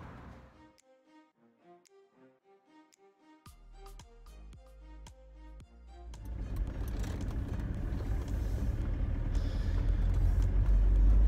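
A camper van pulls away on a road in France. A low engine rumble builds and grows steadily louder after a stretch of musical notes.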